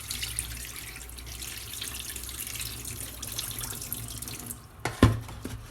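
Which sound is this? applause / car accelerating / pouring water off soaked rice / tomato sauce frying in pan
pouring water off soaked rice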